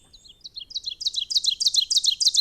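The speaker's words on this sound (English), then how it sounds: "that's the mnemonic that people use for the ovenbird" An ovenbird sings alone in quiet woodland, a rapid series of repeated two-note 'teacher' phrases that grow steadily louder and more emphatic.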